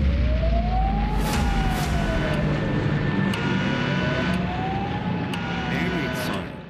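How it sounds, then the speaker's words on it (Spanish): Air-raid sirens in Singapore sound to commemorate the island's fall in World War II, their loud wailing tone slowly rising and falling in long sweeps over city ambience with occasional sharp sounds. "sirenas suenan en Singapur para conmemorar el día en que la isla fue conquistada durante la Segunda Guerra Mundial"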